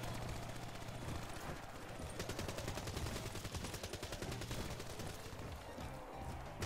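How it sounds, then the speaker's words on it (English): A sentry gun in a video game fires rapid, continuous bursts, a dense rattling stream of shots that is fairly faint and steady, with no voices over it. "Sentry gun."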